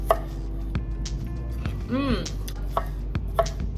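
A knife slicing cucumbers on a cutting board, a few sharp isolated cuts spaced apart, with a brief squeaky scrape in the middle, close and fairly quiet.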